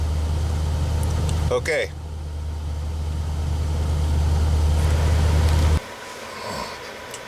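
An old truck called Big Blue warms up and idles, a loud, steady low engine rumble broken by a brief clatter, with a person speaking briefly, before the engine cuts off and the cab goes quiet.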